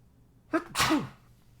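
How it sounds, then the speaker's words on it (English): A single loud, close human sneeze, a sharp intake and then an explosive burst, alone against a quiet room. "Sorry, I'm still sneezing like crazy."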